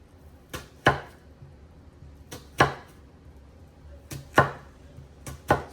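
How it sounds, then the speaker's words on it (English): A knife chops an onion on a cutting board for soup, giving sharp, close taps that come in loose pairs and small groups with short pauses between them. "so onion, just gonna chop it"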